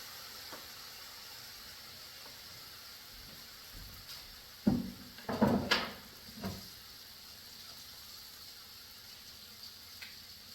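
Prawns fry on low heat in a pan, giving a faint steady sizzling hiss. A few brief clatters come in the middle of the clip, and no one speaks.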